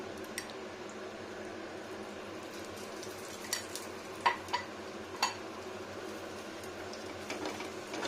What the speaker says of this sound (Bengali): সব কটা আমি এমনি করেই ভাজবো